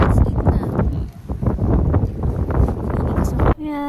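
Strong wind buffets a microphone outdoors at the Gundam Base in Yokohama, producing loud, continuous rumbling gusts that dominate the clip, with voices talking underneath before a brief tonal sound near the end.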